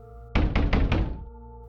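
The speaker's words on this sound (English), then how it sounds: "a sudden burst of violent knocking slammed through the wall" Four heavy, rapid knocks pound on a wall, loud and close, with a dull booming body, then fade back into a quiet indoor hum.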